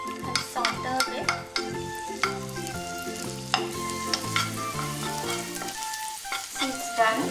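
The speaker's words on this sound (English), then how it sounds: "This butter is hot. Now I'll put this garlic cloves." Garlic cloves sauté in a small amount of hot butter for cheese paratha, a soft sizzle broken by irregular scraping stirs and light clinks of the utensil against the pan, heard near and without talk.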